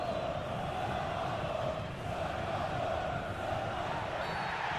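Stadium crowd noise from a football video game, a steady broad roar of a displeased crowd holding at an even level throughout, with no clear individual voices.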